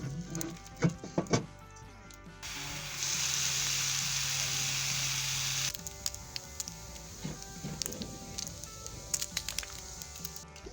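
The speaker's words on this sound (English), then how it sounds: "Listen to that sizzle." Food sizzles steadily in a frying pan for a few seconds, a bright hissing crackle, with clinks and scraping of utensils before and after.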